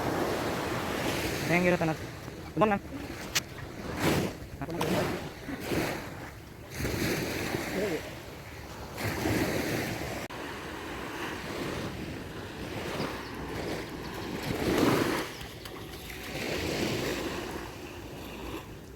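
Ocean waves wash onto a beach at Gokarna in a steady, rolling surge, with wind buffeting the microphone and a person speaking briefly over the surf.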